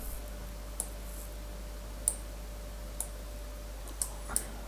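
Mouse clicks sound during a game-engine tutorial, five or six faint, sharp, isolated taps spaced about a second apart over a low steady hum.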